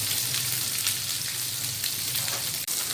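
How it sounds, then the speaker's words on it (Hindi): Onions frying in a pan alongside beef burger patties, giving off a steady, loud sizzle and crackle that fills the whole stretch with no talking over it. "ये प्याज जो है ये देखिए अच्छी सी फ्राई हो रही है"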